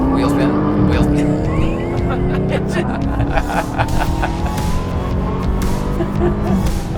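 A car launches at about 2,500 RPM with its tires spinning, the engine holding a strained, rising tone over a rough hiss of slipping rubber, heard close up with voices talking over it.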